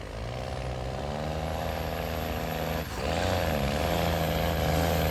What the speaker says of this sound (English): Notice some gear changing here going on.